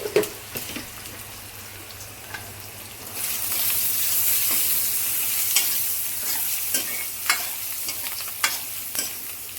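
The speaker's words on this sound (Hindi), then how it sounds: "अब ये प्याज फ्राई हो गई है गोल्डन ब्राउन" Onions fry golden brown in a hot pan and sizzle steadily. The frying gets louder partway through, with occasional scrapes and clicks and no one speaking.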